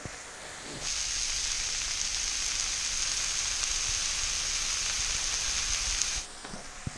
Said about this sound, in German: Und auch das lassen wir jetzt nochmal schön anbraten, damit wir nachher eine schöne dunkle Soße bekommen.